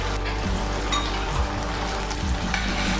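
Chicken fries with barbecue sauce in a pan, giving a steady, close sizzle with bursts of stirring and scraping across the whole stretch and no voice.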